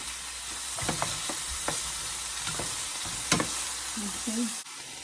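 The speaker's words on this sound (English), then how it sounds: "I'm just gonna saute this thing like for maybe 5 minutes" Yard greens sautéing in a pan give a soft, steady sizzle with a few sharp clinks and scrapes of a utensil stirring, and a brief low thud near the end.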